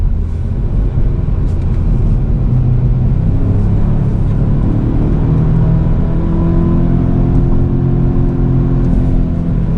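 A Genesis G70 Shooting Brake in Sport Plus mode, with active sound design on low, drives at speed, heard from the cabin as a steady, loud engine drone and road rumble whose tone climbs gradually as it accelerates.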